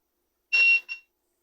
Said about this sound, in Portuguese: Na mesma escala de teste de continuidade que vocês já conhecem. A do BIP